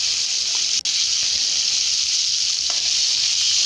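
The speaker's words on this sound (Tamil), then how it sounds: "தக்காளி வதங்கும்படியாக வதக்கணும்." Tomatoes sizzle in hot oil in a pan while being sautéed for garlic chutney, giving a loud, steady, close frying hiss with a couple of faint clicks.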